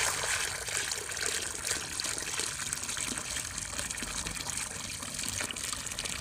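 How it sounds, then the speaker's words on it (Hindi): Water poured into a clay pot, a continuous splashing trickle with broadband hiss that runs steadily the whole time, moderately loud and close, with no talking. "मैंने इसमें पानी ऐड करने लगी हूँ"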